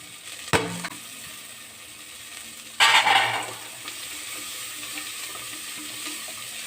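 Green chillies and grated ginger hit a pan of oil for a dal curry, a sharp splash and burst of sizzle after an earlier clatter, then a low steady frying hiss.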